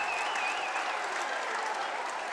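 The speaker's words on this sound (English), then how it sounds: "The CBC student section goes nuts." CBC student section at a high school basketball game erupting, loud dense applause and cheering with a few higher shouts riding on top, close and sustained throughout.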